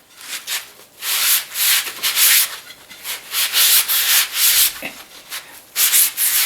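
Sandpaper rubbed by hand over the edge of a jigsaw-cut pine circle, 280mm across and 19mm thick, in a close, steady series of rasping back-and-forth strokes with short gaps between.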